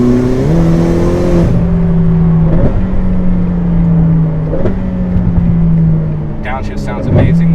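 A Ferrari F8 Tributo on a quarter-mile run, its turbocharged engine droning loud and close with rising tones stepping through gear changes and downshifts, a sharp burst near the end.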